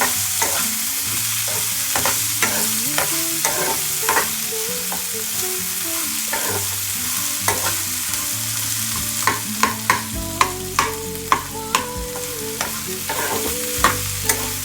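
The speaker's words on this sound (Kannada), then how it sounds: "ಬೆಂಡೆಕಾಯಿ ಹಾಕ್ಕೊಂಡು ಎಣ್ಣೆಯಲ್ಲಿ ಸ್ವಲ್ಪ ಫ್ರೈ ಮಾಡ್ಕೊಳ್ಳಿ ಫಸ್ಟಿಗೆ" Okra (bhindi) fries in oil after mustard seeds and lentils have crackled, giving a steady close sizzle punctuated by repeated sharp spatula scrapes and taps against the pan, with no voices.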